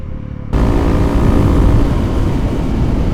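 A Honda CRF300L motorcycle being ridden, with a quiet start that gives way after half a second to a loud, steady engine drone and wind rumble close to the rider.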